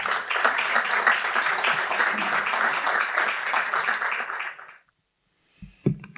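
Audience applauding at a lecture, a dense, steady burst of many hands clapping that carries on for about five seconds before breaking off into silence, followed by a faint knock or shuffle.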